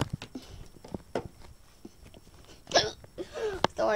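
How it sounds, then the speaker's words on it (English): A person hiccups indoors in a messy bedroom during a house tour, several short sharp bursts scattered across the clip, close and fairly loud between quieter stretches. "Sorry, I got the hiccups."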